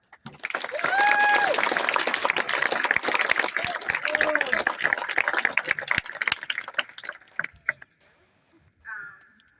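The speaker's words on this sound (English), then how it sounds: "give all of us graduates another round of applause" A round of applause for high school graduates at a 2024 graduation ceremony, dense broadband clapping from a large crowd with cheering whoops over it, fading out near the end before a brief final burst.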